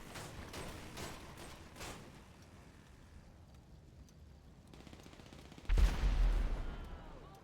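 Gunfire in a video game: faint scattered shots at first, then a sudden loud burst of firing near the end that continues roughly as a rattling fusillade.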